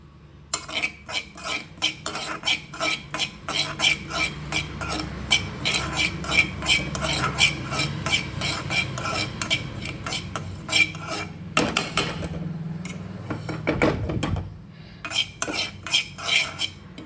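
Poppy seeds dry roasted in a pan while being stirred: steady rhythmic scraping of a metal utensil against the pan, close and continuous, with a few louder knocks near the end and no talking.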